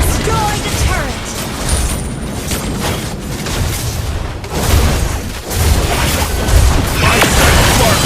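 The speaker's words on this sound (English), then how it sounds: "Your team destroyed the turret!" A turret is destroyed in a Mobile Legends match at the M7 World Championship, with loud, continuous booming, explosive game effects and crackling impacts layered together throughout.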